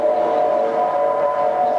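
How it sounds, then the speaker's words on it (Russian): A stage sound effect of an electric commuter train arriving at a station during a 1999 comedy performance, heard as a steady, loud humming tone held without break. "Уже электричка, люди идут!"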